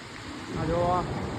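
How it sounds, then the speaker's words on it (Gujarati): Heavy rainwater pours down forcefully, a steady broadband rushing roar, with a voice briefly heard over it. "આ જોવો હા કેટલું પડે છે પાણી જોરમાં"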